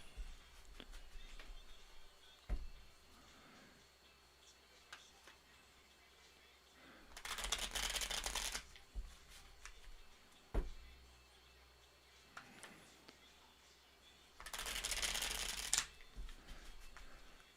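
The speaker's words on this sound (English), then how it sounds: "Bust a couple shuffles." Two separate bursts of tarot cards being shuffled, each riffle lasting a second or two, close by in an otherwise quiet room with faint small handling sounds.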